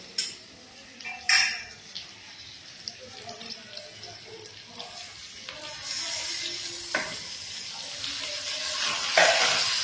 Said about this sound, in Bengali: এখন টমেটো কুচি দিয়ে দিব